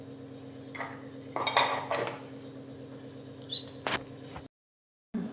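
Khichdi is stirred in an open pressure cooker pot, with metallic scraping and clinks from a ladle against the pot, close by, over a steady low background hum and a brief dropout near the end.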